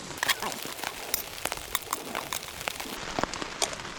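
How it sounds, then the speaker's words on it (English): Rain patters steadily on a tarp on a beach, with scattered sharper drips and taps standing out over the continuous wash. "It's raining a lot right now."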